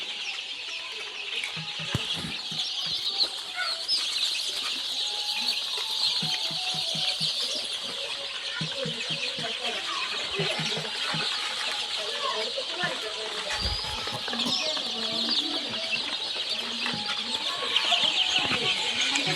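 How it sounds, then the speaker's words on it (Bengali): Native deshi chickens at a Bangladeshi poultry seller cluck steadily over a busy, noisy background that stays fairly loud throughout, with no clear talk. "দেশি মুরগি"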